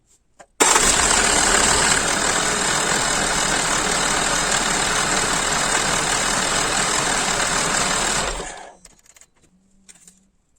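A 2007 Toyota Corolla Verso 2.2 diesel engine cranks and catches abruptly, then idles with a steady, loud clatter for about eight seconds before cutting off, leaving near silence.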